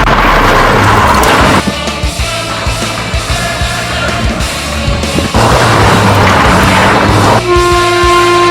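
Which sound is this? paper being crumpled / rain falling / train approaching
train approaching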